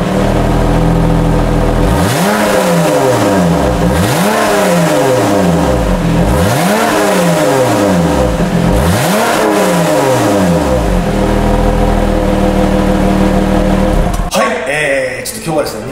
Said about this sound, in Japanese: エンジンをねかけてみてどんな音がするのかですね聞いてほしいなと思います